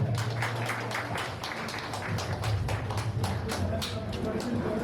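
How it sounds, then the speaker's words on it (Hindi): A crowd at a Diwali gathering keeps up a steady patter of applause, moderately loud, with voices and a low hum of the hall beneath the clapping. "इनके लिए बड़ी तालियां हो जाए।"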